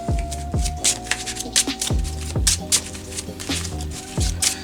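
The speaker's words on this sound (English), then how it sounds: "Do a nice shuffle." A deck of cards is shuffled during a Yu-Gi-Oh Synchron deck test-hand session, a quick rustling riffle heard over steady background music.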